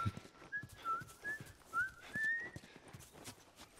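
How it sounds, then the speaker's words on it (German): A game character whistles in The Last of Us video game, a faint wandering tune of short notes over soft footsteps and ambient noise. "Ich pfeife."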